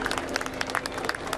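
A crowd applauds in Padua as a relic of Saint Anthony is returned from Venice's Basilica della Salute, dense scattered clapping at moderate distance, steady and unbroken.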